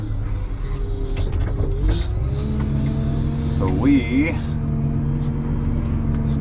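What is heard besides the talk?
manure hauling truck engine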